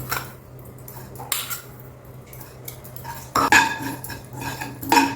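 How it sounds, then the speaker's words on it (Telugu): A spoon stirs about four spoonfuls of dry desiccated coconut roasting in a pan, making close, intermittent metallic scrapes and clinks in several bursts separated by quieter pauses, with no talking. "ఇప్పుడు ఇదే ప్యాన్లో ఈ ఎండు కొబ్బరి ఒక నాలుగు స్పూన్లు వేసి వేయించండి"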